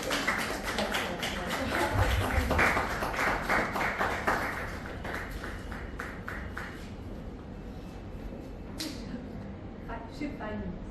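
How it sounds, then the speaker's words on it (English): Applause breaks out for a departing summer intern at a farewell gathering, a dense run of clapping for several seconds that thins and fades, with voices chattering underneath. "Can we just clap for her?"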